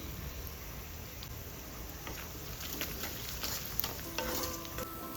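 Onion and garlic sautéing in a pan with a little salt, a soft steady sizzle with occasional stirring scrapes, close and fairly quiet throughout.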